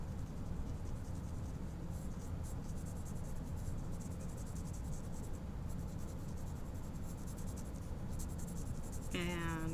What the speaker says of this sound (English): I'm going to go back into it with my 2H pencil.